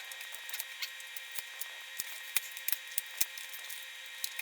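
Scissors snipping away the plastic wrap and clasp from a raw turkey: a series of small, crisp, close cuts and clicks at an uneven pace over a steady faint background hiss.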